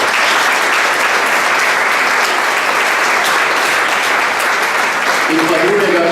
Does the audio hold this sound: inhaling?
no